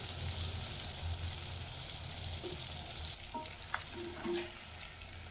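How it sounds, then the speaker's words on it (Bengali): Crispy chicken pieces frying in oil on low heat, a steady soft sizzle throughout with a few light clinks and stirring knocks near the end, close and alone. "একটু গ্যাসটাকে সিম করে দিয়ে ধৈর্য ধরে ভাজতে হবে।"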